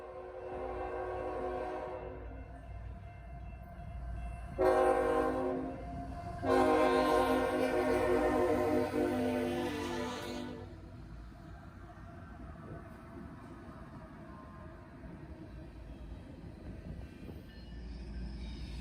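CN 3115, a locomotive in BC Rail paint leading CSX freight Q630, blasts its horn in several loud, drawn-out calls over a low, steady rumble of rolling freight cars.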